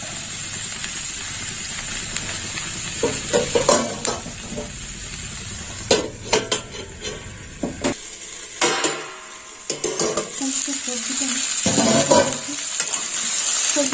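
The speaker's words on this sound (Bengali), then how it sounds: "মটরশুঁটি একটু সবজির সাথে ভেজে নেব।" Peas and mixed vegetables frying in a pan, a continuous sizzle punctuated by clattering spatula strokes and metal knocks against the pan, loud and close, with quieter stretches between bursts of stirring.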